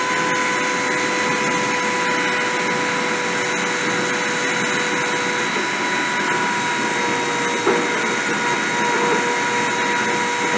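A spindle motor spins at 30,000 RPM during a deposition run, giving a loud, steady whine with sustained tonal hums and no breaks, heard alone.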